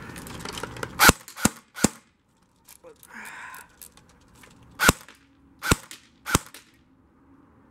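Sharp, loud shots from a Lancer Tactical CQBQ airsoft gun ring out one at a time at irregular intervals, about seven cracks in all with a short murmur of movement between them.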